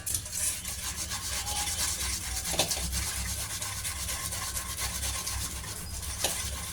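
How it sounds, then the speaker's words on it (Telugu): Boiled potatoes being grated for poha cutlets, a steady continuous rasping and rubbing texture that runs throughout at a fairly even level, with no talk. "ఇప్పుడు ఉడికించిన ఆలుగడ్డలను తురుముకోవాలి"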